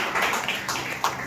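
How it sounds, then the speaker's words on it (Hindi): Steady, dense audience applause welcomes the retiring principal at a school farewell program at PM SHRI Kendriya Vidyalaya Panagarh, a continuous wash of many hands with a few sharper claps standing out. "पहले हम सर के स्वागत में एक बार जोरदार ताली।"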